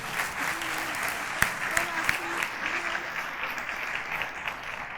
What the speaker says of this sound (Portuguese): Uma salva de palmas para os três.